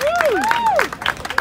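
Audience applause at a quinceañera party, a steady patter of clapping with rising and falling whistles cutting through, fairly close and moderately loud.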